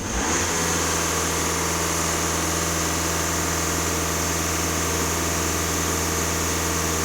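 A Skoda Yeti 2.0 TDI diesel engine idles close by with a steady, even drone and a constant pump-like hum throughout.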